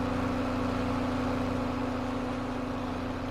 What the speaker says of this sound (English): Let's get back away from that tractor a bit, it's a bit loud.